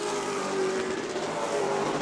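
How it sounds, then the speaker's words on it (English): Race cars at speed on the short oval at New Smyrna, their engines giving a steady loud roar as the cars pass in a pack during the main event. "Car number 25, Gavin Bichelle, fastest car on the racetrack"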